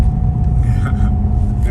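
Maserati Quattroporte GTS engine in manual mode, a steady loud low rumble with a constant drone as the car is knocked down a few gears, close and continuous.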